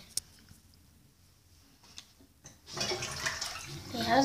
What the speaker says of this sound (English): Got enough time to flush the toilet.